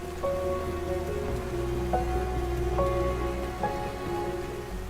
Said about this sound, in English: The rain phenomenon and its impact.